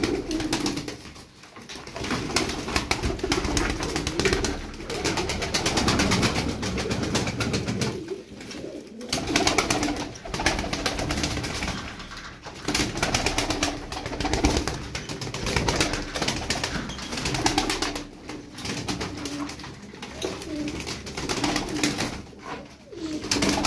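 Young milk-white Turkish tumbler pigeons coo steadily and loudly up close, the soft throaty calls overlapping almost without pause, broken by a few brief lulls.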